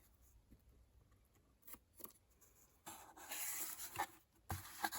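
Scissors snip through card during a papercraft ink box project, faint close crunching cuts in a few short bursts, the last strokes louder and rougher, with no talking.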